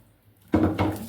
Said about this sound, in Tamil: இதில் கலக்கி ஊற்றிடுவோம்